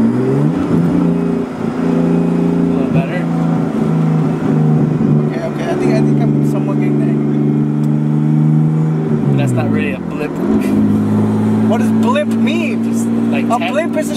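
A Nissan R32 Skyline with a manual swap hums steadily, then dips and surges in a quick throttle blip, with voices talking over it.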